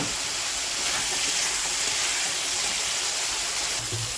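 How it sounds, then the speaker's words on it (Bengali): Chili powder and turmeric masala sautéing in a pan gives off a steady, loud, close hiss of sizzling that runs unbroken throughout, with no voices. "লঙ্কার গুঁড়ো, হলুদ গুঁড়ো, এটাকে খুব ভালো করে এবার আমি কষিয়ে নেব"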